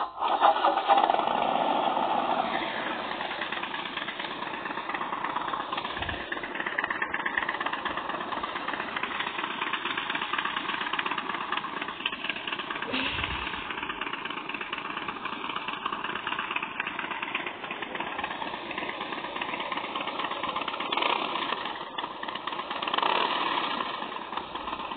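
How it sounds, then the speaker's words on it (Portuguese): A Harley-Davidson S-Series Fat Boy motorcycle engine idles with a steady, dense rumble that holds at an even level throughout, with no voices. "A próxima moto que eu vou mostrar pra vocês é a Harley Davidson S-Series Fat Boy."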